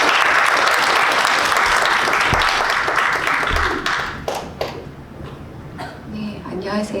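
An audience at the 8th Kim Jong-chul Literary Award ceremony claps loudly and densely for about four seconds. The applause then thins into scattered claps and fades.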